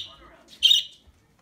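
Pet birds kept indoors give a short, bright squawking call that peaks sharply for a moment, with softer chirpy sounds before it and near silence after.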